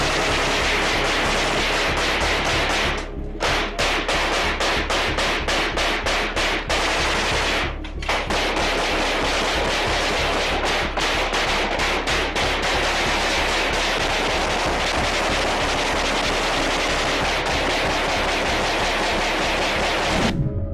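Sustained automatic weapons fire from paramilitary forces occupying an area during the Srebrenica conflict, dense rattling bursts and volleys running continuously at high loudness with brief pauses, no speech.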